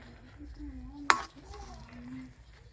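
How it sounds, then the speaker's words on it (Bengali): A spatula working thick sandesh mixture in a pan over low flame, with soft scraping strokes and one sharp metallic clink against the pan midway, under a faint voice hum. "আমি আবারও কন্টিনিউ নাড়াচাড়া করব, এতে করে মিশ্রণটা কিন্তু অনেকটাই টাইট হয়ে যাবে"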